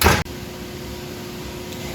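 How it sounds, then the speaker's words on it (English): Oven door shutting once as a dish of potato goes inside, a short muffled clunk followed by a steady low appliance hum. "Putting it in the oven"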